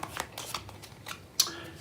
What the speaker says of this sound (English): Josh has picked his 5 cards and he's shuffled each pack.